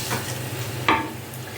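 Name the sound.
mutton frying and being stirred in a pan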